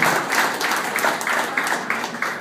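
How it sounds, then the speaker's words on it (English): A room full of people applauds at a Chamber gathering at Mac's in Saline, a brisk, close wash of clapping with a few distinct sharp claps standing out. "another round of applause for the Chamber and art"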